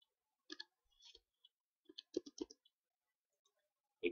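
A product code typed on a computer keyboard: soft, close key clicks in short irregular bursts with brief pauses between them, quiet and alone.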